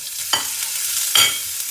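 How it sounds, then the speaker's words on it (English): Garlic, curry leaves, red chillies and onions tempering in hot oil, a steady sizzle broken by two sharp crackling bursts as the pan is stirred, close and without talk. "Now I'll add in all the others: garlic, curry leaf, the red chillies, and the onions."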